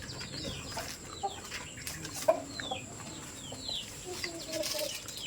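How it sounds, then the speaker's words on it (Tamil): Country chickens and a rooster clucking and murmuring nearby on a farm, with scattered chirps from other birds, set against a low outdoor background, no clear talking. "இதில் இருக்கிற சேவல் பேர் கொம்பன்"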